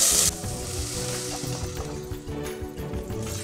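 Shallots dropped into hot oil with cinnamon for a village-style mutton kuzhambu give a steady broadband sizzle, preceded by a short sharp burst, continuing close and fairly loud throughout.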